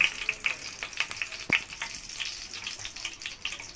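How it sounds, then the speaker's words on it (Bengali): Dried red chillies and bay leaves fry in hot oil for a pointed gourd curry. A close, crackling sizzle opens with sharp spatters and pops, then settles into a softer, steady hiss. No one speaks. "তেলটা একটু গরম হয়ে গেলে দেবো আমি শুকনো লঙ্কা, তেজপাতা"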